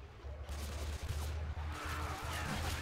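Rapid gunfire from shooting zombies in a video game crackles in a dense, continuous fusillade, loud and steady throughout with low rumbling underneath.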